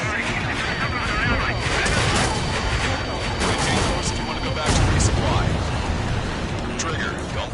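Incoming missiles and combat noise in the Ace Combat 7 flight game, a dense, loud roar of blasts, rumbles and jet noise that runs unbroken from start to finish, with radio chatter under it.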